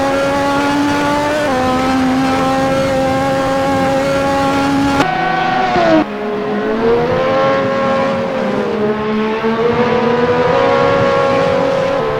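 Racing car engine from a video game, a Lotus 98T turbo car at Interlagos, droning loudly and steadily with gear shifts and shifting pitch throughout, no talk over it.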